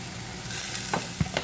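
Ground meat browning in a pan with a dusting of cumin, a steady soft sizzle from close by with a few scraping stirs of a spoon near the end.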